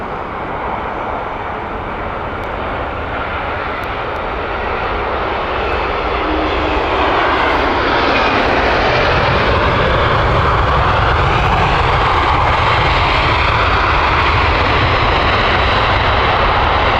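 An American Airlines Boeing 787-9 on final approach to Heathrow swells from a moderate hum into a loud, close jet roar that stays strong to the end.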